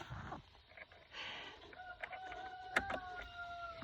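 A rooster crows among a backyard flock of about fifteen chickens, its drawn-out call rising clearly over soft outdoor background noise, with a few sharp clucks and clicks nearby.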